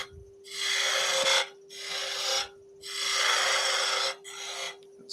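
A turning tool cuts a V into wood on a lathe while a Christmas snowman is being turned, giving four close, loud raspy bursts of cutting, each lasting about a second, with short quiet pauses between them.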